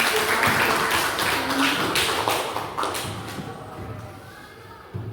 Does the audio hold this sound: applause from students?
yes